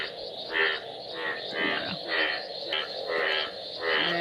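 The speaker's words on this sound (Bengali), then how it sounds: "আমাদের এই পিছনের জমিতে জল জমে গেছে, সাথে প্রচণ্ড ব্যাঙের আওয়াজ।" Frogs croak in a waterlogged field behind a house on a stormy, rainy night, a chorus of rhythmic pulsing calls repeating about twice a second, moderately close and fairly quiet.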